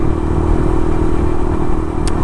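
A Suzuki RV125 motorcycle ridden on a road in Wales in the morning, its engine a steady close drone with low rumble and wind noise throughout, no talking.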